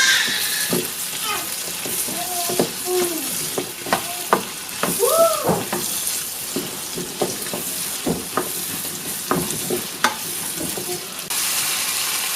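Onions and green chillies frying in a pan for Kerala-style chilli chicken, giving a steady sizzle with scraping stirs and clinks throughout, fairly close and loud with no talk.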